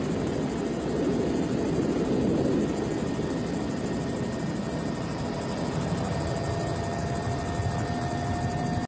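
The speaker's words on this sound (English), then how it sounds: "This helicopter pilot has some incredible aim." A helicopter drones steadily with a dense, rumbling rotor noise, fairly close and continuous throughout with no talking.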